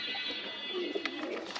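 Lal Golla pigeons give soft, low cooing calls nearby, a few murmuring phrases over a faint background hum without speech.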